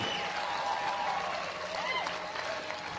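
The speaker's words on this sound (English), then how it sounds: "Get old man a round of applause." A crowd applauds steadily, dense clapping with faint cheering mixed in, holding at an even level throughout.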